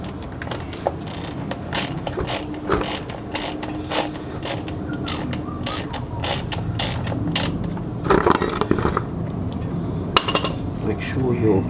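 A ratchet wrench with a 5/8 socket works loose an engine oil sump plug, producing rapid rhythmic clicking bursts with metallic clinks and creaks, close up, in repeated runs.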